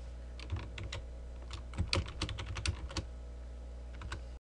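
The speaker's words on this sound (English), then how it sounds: "I'll type in a new header for this data." Fingers type on a computer keyboard in quick, irregular bursts of clicking keystrokes, close and fairly quiet, with no talking.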